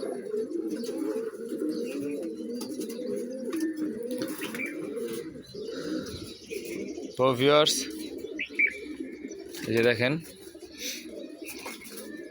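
Breeder pigeons kept on a rooftop coo in low, rolling calls through the clip, with a few louder nearby bursts and faint chirps, while someone talks over them.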